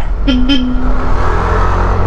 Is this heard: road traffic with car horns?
yes